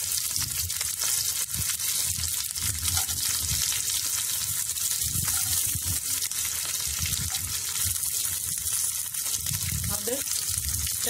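Nuts browning in hot oil in a pan for lemon rice, a continuous dense sizzle and crackle throughout, with occasional stirring scrapes and low voice murmurs underneath.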